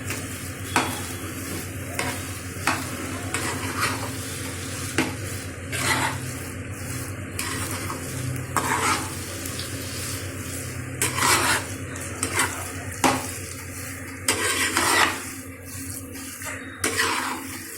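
Rice is stirred with jaggery in a pan, a steady run of scraping and clinking spoon strokes over a soft continuous sizzle, with sharper bursts of scraping near the end, no voices.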